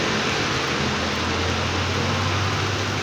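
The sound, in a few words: rain pattering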